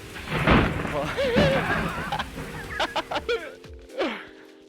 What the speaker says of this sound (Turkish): Şansa da hava yağmurlu.